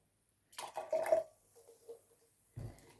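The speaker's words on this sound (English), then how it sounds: "I'm just going to pour a little bit of lemonade into a glass" Lemonade poured into a glass at home: a short splashing pour with a brief fizzy trickle afterward, then a second quick clunk or pour near the end, close and fairly quiet.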